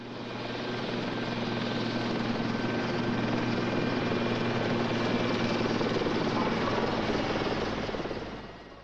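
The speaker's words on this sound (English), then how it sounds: "The Lynx, a highly versatile and maneuverable naval helicopter, can operate day or night in nearly all weather conditions" A Royal Navy Lynx naval helicopter, its rotor and turbine producing a loud, steady drone that holds close and constant, easing off slightly at the end.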